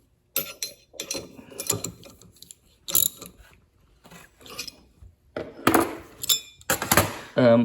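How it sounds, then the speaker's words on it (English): Metallic ratcheting and mechanical clicks in short bursts as a plug is tightened into a Ford FE non-adjustable roller rocker shaft, close and fairly loud with pauses between bursts. "As soon as I get this plug tightened up."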